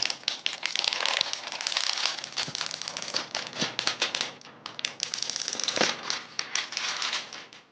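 Crinkly crackling and scattered taps as protective plastic tape is peeled off a Positivo Vision R15 laptop, close and fairly steady, with no talking.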